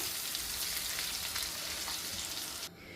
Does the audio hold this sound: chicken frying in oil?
yes